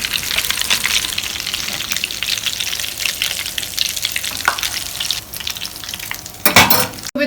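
Mutton koftas frying in hot oil, a steady dense sizzle with crackling throughout, a brief louder burst of spattering near the end.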